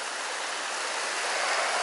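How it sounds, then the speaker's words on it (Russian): A mountain stream at the source of the Aksai (Yassy) river rushes in a steady, close, broadband wash of flowing water, swelling slightly toward the end. "Здесь эта река начинает свой уже дальнейший путь."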